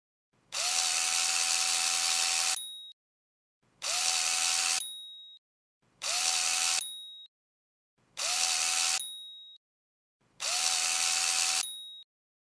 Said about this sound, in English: grab the impact wrench and collide with the lug nuts to snug the lug nuts in a star pattern